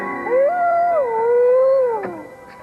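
A pet dog named Waffles howls in one long, wavering, close-up cry that rises, holds and slides down before fading out.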